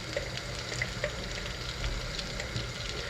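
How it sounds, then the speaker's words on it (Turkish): Pepper paste fries in a pan while a Turkish yüksük soup is being made, giving a steady, low sizzle that carries on evenly throughout with no voices. "Şimdi e, biber salçası ekliyorum"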